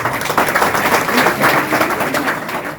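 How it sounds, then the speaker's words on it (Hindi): Loud, continuous applause from an audience at a Gita Jayanti celebration, many hands clapping steadily for about three seconds with no voices over it. "एक बार जोरदार ताली"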